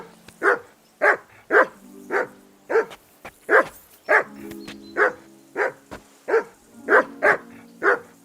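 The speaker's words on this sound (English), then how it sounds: "Call off that damn dog before he wolfs down the last of our meat" A dog barking in the video game Kingdom Come: Deliverance II, a dozen loud, close, sharp barks in a steady rhythm, with a faint low hum between them.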